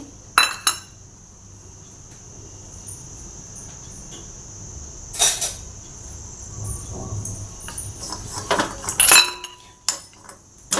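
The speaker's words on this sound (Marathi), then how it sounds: "मीडियम गॅसवरती आपण खोबरं भाजून घेणार आहे" Occasional metal clinks and scrapes of a spatula stirring chopped coconut roasting in a wok over medium gas, with a steady insect chirp running in the background.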